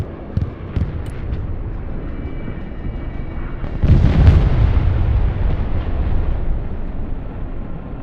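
Rocket explosions in the game Broken Arrow, a heavy blast landing midway that swells into a long rumbling roar and slowly fades, over a background of distant battle noise and faint pops.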